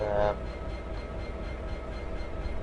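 A locomotive rolls past on the Settle to Carlisle line in Train Simulator, a steady low rumble of wheels and engine with a brief brighter tone at the start, continuous and fairly close.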